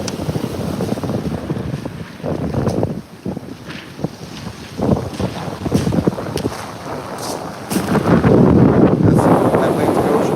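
Wind buffets the microphone on the Atlantic coast while surf rumbles and washes in the background, swelling louder toward the end, with no clear voices over the steady blustery roar.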